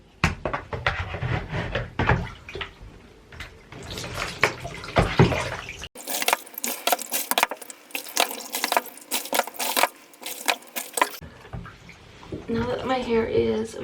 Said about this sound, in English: I just stick my head in there and pour the water over to get it wet